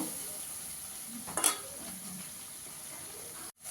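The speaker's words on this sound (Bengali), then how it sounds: "ভালো করে একটু কষিয়ে নেব।" Masala sizzles gently in hot oil while being stirred for a Bengali bhola fish curry with mustard and poppy seed paste, a faint steady crackle with one brief scrape of the spatula against the pan.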